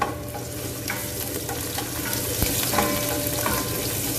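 Chopped garlic fries in a hot pan for pancit, a continuous sizzle with scraping stir strokes and one sharp clatter of a utensil midway, close and fairly loud with no talking.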